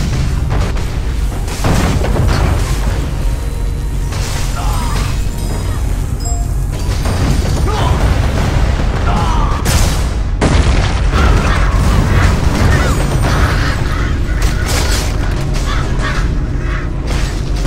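Dense, continuous battle din from a castle defense in the video game ArcheAge, with repeated heavy cannon booms and crashes, loud and close, with a sharp blast standing out partway through.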